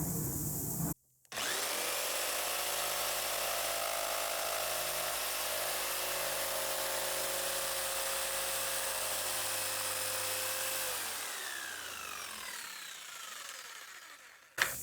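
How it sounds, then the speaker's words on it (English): Electric jigsaw cutting through plastic while building a homemade pontoon boat, a loud buzzing, rattling cut that runs steadily after a brief start, then winds down near the end. "Jigsaw's gonna go this way, that way, and that way."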